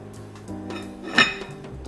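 A lid is set onto a cooking pot of carrot soup, giving a single short metallic clink near the middle, close and fairly clear over faint kitchen background.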